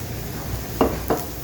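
Spices tipped into onions frying in a pan make a soft steady sizzle, broken by two brief scraping stirs near the end.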